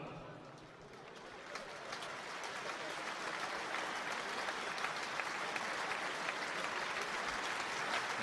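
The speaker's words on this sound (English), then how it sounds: "very generous round of applause for the former World Cup winner Lilian Thuram" Football crowd at Hearts versus Barcelona applauding Lilian Thuram, a steady broad wash of clapping from a large stadium audience, swelling slightly and sustained throughout, distant and dense with no single claps standing out.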